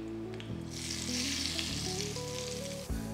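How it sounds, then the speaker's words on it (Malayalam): Mustard seeds tempered in hot oil with curry leaves and sliced shallots hiss and crackle as they are poured into kofta meatball curry gravy, a loud, steady sizzle over a low tonal hum, with no talking. "കടുക് പൊട്ടിച്ച മിക്സ്ചർ നമുക്ക് ഗ്രേവിയിലേക്ക്"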